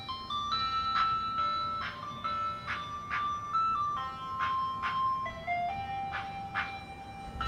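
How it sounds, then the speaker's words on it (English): An ice cream truck's chime melody plays steadily in repeated tinkling phrases, moderately distant and clear over a low background rumble, with no talking. "The ice cream truck. It's following me."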